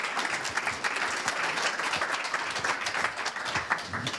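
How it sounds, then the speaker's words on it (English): Conference audience giving a final round of applause to the speakers, a dense burst of clapping from a hall full of people, steady and fairly close throughout. "please give a final round of applause to our fantastic speakers"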